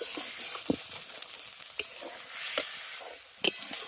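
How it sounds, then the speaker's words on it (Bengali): Spice paste is sautéed in oil in a pan, making a quiet, continuous sizzle broken by a few sharp spatula taps and scrapes at uneven intervals. "এবার মশলাটাকে কষিয়ে নেব যাতে মশলার কাঁচা গন্ধটা চলে যায়"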